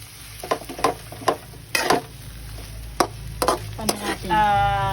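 Sardines are cooked in a pan with repeated clanks and scrapes of a utensil against the metal over a steady sizzle, close by, and a voice talks briefly near the end.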